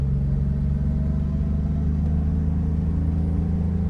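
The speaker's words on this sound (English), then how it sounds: "Transmission shifts smooth" A 1981 DeLorean driving along with a steady low engine rumble and road drone, continuous and close, with no distinct shift points standing out.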